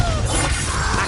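A Confringo blasting spell going off in the Hogwarts Legacy video game: a loud, dense crackling and shattering burst that fills about a second without a break.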